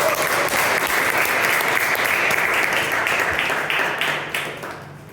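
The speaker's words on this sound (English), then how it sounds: "So give yourself a round of applause." Audience at a Toastmasters club meeting breaks into a full round of applause, dense and sustained, then thins out and fades toward the end.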